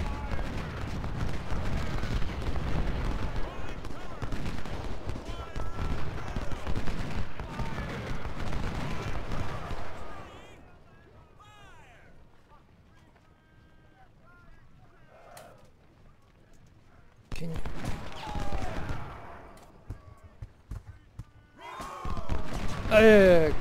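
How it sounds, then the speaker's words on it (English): Infantry volleys and artillery fire in the Civil War strategy game Ultimate General Civil War at Gaines' Mill, a loud, dense stretch of shots followed by near silence, then renewed bursts, with talk at points. "I got all three infantry shooting at him,"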